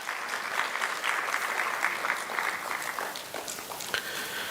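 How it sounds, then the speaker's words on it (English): Applause from an audience of health practitioners at an AI masterclass in Kenya, a sustained wash of clapping from many hands at moderate distance, steady throughout with slight swells. "Let's give Dr. Fred a round of applause"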